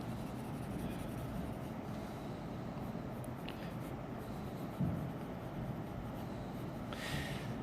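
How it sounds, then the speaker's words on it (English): A pencil shades back and forth on paper while an eye is being drawn, making a soft, continuous scratchy rubbing that stays steady and close with only faint shifts in stroke. "I'm just going to move my pencil back and forth to build up some values of shading"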